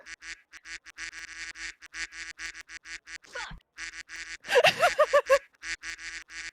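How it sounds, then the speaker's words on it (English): Duck quacks in a video game, Genshin Impact, during the Fontaine Archon Quest, arrive in a rapid series of loud, close nasal calls. A dense burst in the middle stands out, and a brief voice cuts in once. "What did Neon say? I only heard quacking."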